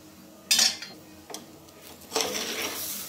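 Rice and salt being stirred together in a pressure cooker for jeera rice, with a sharp metal-on-metal scrape and clatter, a lighter tap, then a longer scraping stir, close and fairly loud.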